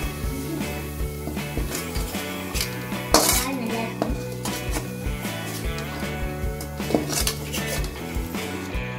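Metal utensils scrape and clink against a pan as fried prawns are scooped out of hot oil for prawn fried rice, with repeated close clatter over a faint background hum.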